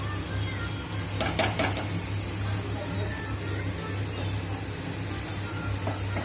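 Ginger, chili paste and crushed coriander sauté in a pan for samosa filling, giving a steady close sizzle throughout with a low background hum and a brief cluster of scraping clicks early on.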